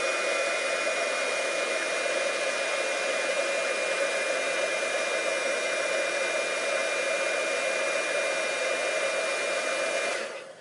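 A heat tool held very close to a taffeta ribbon, shrinking it so it bunches up, blows as a steady, loud whirring hiss that runs unbroken for about ten seconds before cutting off at the end.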